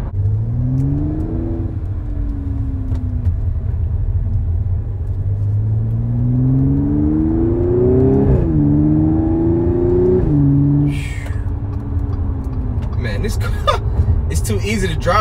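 Supercharged V6 in an Audi S5 coupe revs and accelerates, its rising and falling engine tones droning loudly throughout with a brief gear change midway, while a person talks over it.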